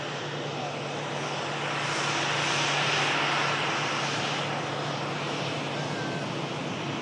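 Engines of a ten-year-old Emirates Airbus A380 at an airfield, a broad steady roar that swells slightly in the middle and then eases, heard from a distance.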